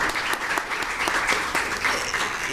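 Steady applause fills an audit court council session, many hands clapping at a moderate, even level with crisp individual claps standing out, approving an honour for a councillor.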